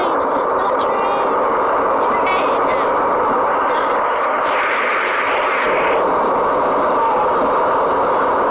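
A train rumbles past in the video game Jailbreak with a steady, loud roar and faint rattling, while a voice talks briefly over it.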